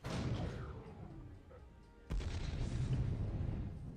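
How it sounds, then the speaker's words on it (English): Artillery-style cannon nicknamed the battering ram fires a sudden heavy boom midway, following a dull rumbling blast tail from an earlier shot, recorded close and loud outdoors. "It's like an actual artillery cannon going off."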